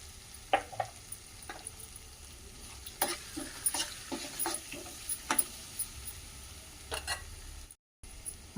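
Potatoes frying in a pan with a spoonful of turmeric, a continuous close sizzle broken by repeated sharp spatula scrapes and knocks against the pan in an uneven rhythm.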